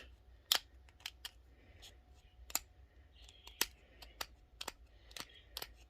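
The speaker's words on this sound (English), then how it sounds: "using my old blade, I'm just scraping it off" Old blade scraping paint off the roof of a Sunstreaker toy car, heard as sharp, quiet scratchy clicks in irregular bursts, close up in a quiet room.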